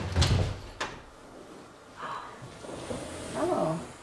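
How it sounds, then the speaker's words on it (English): A door swings open quickly during a nighttime paranormal investigation in a house in Oman, with a sharp thump and clatter near the start, a second knock, then faint rustling and movement close by. "Open the door real fast, Judith"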